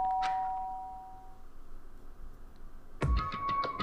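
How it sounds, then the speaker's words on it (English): A doorbell chimes in the video game Danganronpa: Trigger Happy Havoc, a bright ding-dong with ringing tones that rises suddenly out of quiet ambient game music and fades over the next second. "did I hear the doorbell?"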